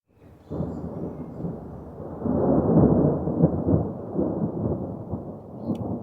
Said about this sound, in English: to the sounds of thunder and rain